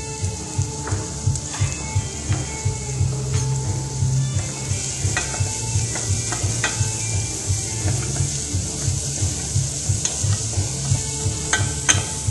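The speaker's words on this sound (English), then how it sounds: "bottom of the pan's nice and hot, so we're going to get a nice sizzle when it starts" Chopped garlic sizzling in a hot pan, a steady close crackling fry with a rhythmic low bubbling pulse and occasional stirring clicks, no talk.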